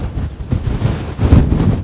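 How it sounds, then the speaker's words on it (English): Strong wind roars across a mountain summit in the Scottish Highlands, buffeting the microphone in loud, rumbling low gusts that swell and ease throughout, with no voices. "Oh man, it's windy."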